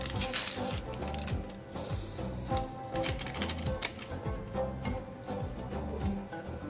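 Eggs and vanilla sugar for a semolina cake are whisked in a bowl, fast rhythmic clicking and tapping strokes repeating steadily and close up, with no voice.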